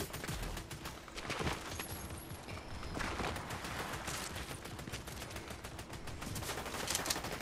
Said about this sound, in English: My favorite shotgun.